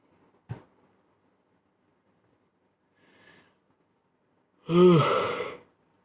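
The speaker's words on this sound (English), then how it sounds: "I'm still yawning." A single drawn-out, voiced yawn trails off like a sigh near the end. Before it come a brief sniff and a faint breath, with silence in between.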